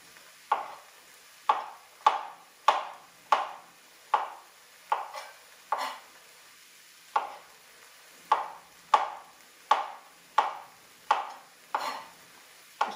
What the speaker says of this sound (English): So how I slice my mushrooms is I just slice them that way